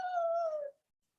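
A dog gives one short, mournful howl that slides slightly downward and fades out within a second, heard alone and fairly faint.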